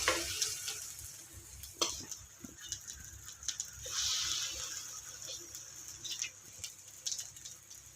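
Semolina appe cooking in an appe pan sizzle softly and steadily, with a scatter of light taps and clicks from a utensil, fairly quiet and close, with no talk.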